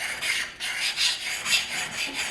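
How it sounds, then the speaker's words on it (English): A sharpening stone rasps back and forth across a steel edge on a kindling splitter build, with about five or six close, rhythmic strokes and short pauses between them. "Just going to sharpen this up with a stone."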